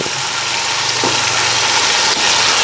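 Carrots and other vegetables sautéing in a pan for a dried fish curry, a loud steady sizzle and hiss throughout with faint stirring, no voices.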